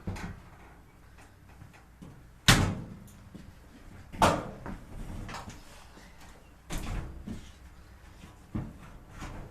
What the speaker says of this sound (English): Pull out the door